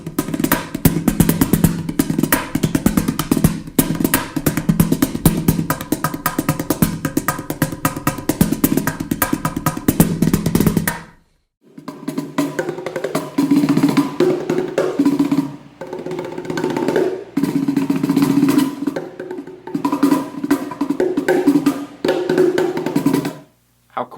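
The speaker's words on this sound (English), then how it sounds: "Little cajones, and those sound like this." Small Mashbox cajon drums are struck in busy, dense patterns of slaps and thumps, loud and close, with a brief pause midway before a second burst of rhythmic hits.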